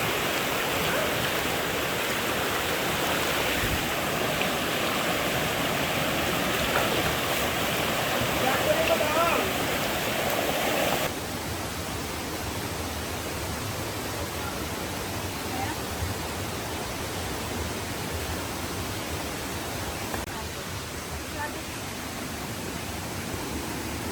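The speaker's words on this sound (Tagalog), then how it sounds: "And ayun na yung falls." Waterfall at Gabaldon, a steady roaring wash of falling water filling the whole stretch, slightly louder in the first half, with no clear talk over it.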